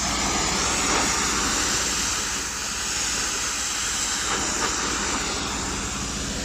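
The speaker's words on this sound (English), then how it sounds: "I'll let the steam just bellow away there so you can see what I'm doing." Steady, loud hiss of a steam cleaner blasting organic growth off a surface from a cherry picker, a broad continuous rush with slight swells and no voices.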